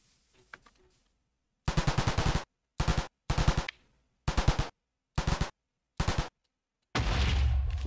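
A minigun in modded Minecraft fires in rapid, loud bursts, about seven separate volleys with short gaps between, after a few faint clicks, during a fight with a mutant creeper.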